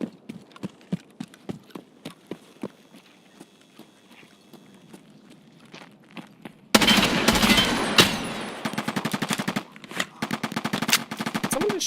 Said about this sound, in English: that felt like someone else shot at us, not that guy